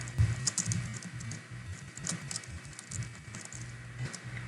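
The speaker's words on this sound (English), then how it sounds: "typing in the event name" Keys tapped on a computer keyboard while an event name is entered, a quick, uneven patter of close, soft clicks with short pauses and no talking.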